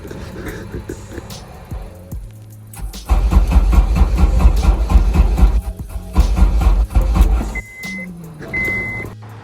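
A car fitted with an AEM ECU cranks repeatedly and fails to catch, with loud, rhythmic starter and engine churning for several seconds before it cuts out, followed by a brief electronic beeping.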